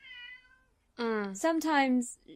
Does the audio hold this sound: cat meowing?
yes